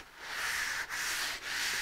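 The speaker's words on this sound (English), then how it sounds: "So let's give it a quick, really light sanding just to knock off any nibs." Light hand sanding of dried drywall joint compound over a paper-taped seam gives a steady, soft, close scratchy rub in about three strokes with brief pauses between them, and no talking.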